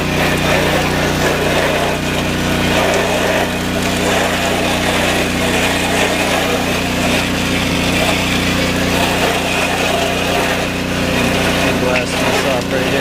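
A pressure washer blasts a house's gutter guard, its engine droning and the water spray hissing loudly and continuously from start to finish.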